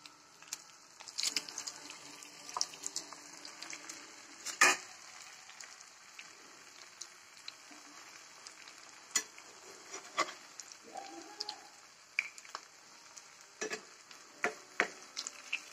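Grated potato pakoras fry in hot oil, a soft crackling sizzle broken by sharp clicks and scrapes of a utensil, fairly quiet and close with no talking.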